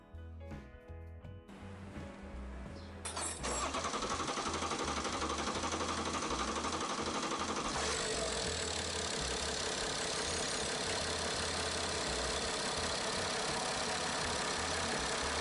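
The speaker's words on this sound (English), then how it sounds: "Tighten the pipe and start the engine." A BMW N57 diesel engine in a 530d cranks briefly, then catches and settles into a steady, loud idle that continues uninterrupted, heard close without talk.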